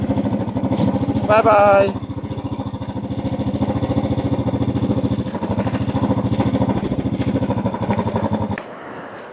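A two-wheeler motorcycle engine idles steadily and fairly loud throughout on the road toward Kedarnath, with brief speech over it early on before the rumble drops away at the end.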